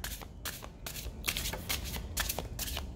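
Tarot cards being shuffled by hand, a close, crisp riffling in several quick bursts with short gaps, alone and without speech.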